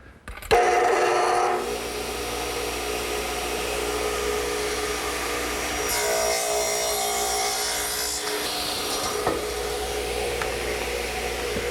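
A table saw with its blade tilted to 7½ degrees cuts a piece of scrap wood at a 30-degree angle, guided by a sliding jig. Its motor gives a loud, steady whine, and the pitch shifts as the blade passes through the wood midway.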